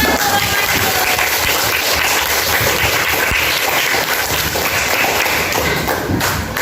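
Students in a primary-school classroom clap together in a dense, steady burst of many hands that fills the room for several seconds at close range, with faint voices mixed underneath.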